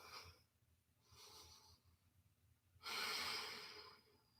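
A person breathes deeply and slowly during a yoga session: two soft, drawn-out breaths are followed by a louder, longer exhale, close and quiet, with no talking.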